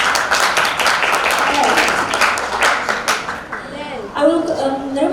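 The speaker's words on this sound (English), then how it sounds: "Everyone, please give warm applause to group 6." Audience at a youth festival business idea competition applauding a competing group: dense clapping that fades out partway through, after which people talk.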